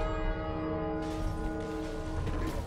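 Gong struck in It Takes Two, a deep ringing metallic tone with long sustained harmonics that swell again about a second in, loud and alone with no talking.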